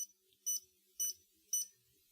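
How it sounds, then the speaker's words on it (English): A Breadcrumb Bluetooth nock gives short, high electronic beeps, four of them here at an even half-second pace, close and clean against near silence. "I'm going to press the light and sound button. It should beep 10 times."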